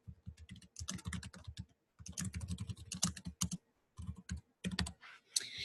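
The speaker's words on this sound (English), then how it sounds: "You're going to type in the address." Rapid typing on a computer keyboard while an address is entered into an instructor profile form: dense, close clattering keystrokes in bursts with short pauses between words.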